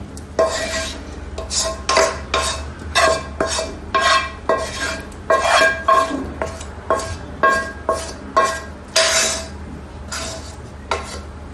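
Cooked cauliflower gravy going into an oven tray for cauliflower mac and cheese, heard as a run of bright clinking and scraping strokes of a utensil against the tray, close and steady with short pauses, no talk.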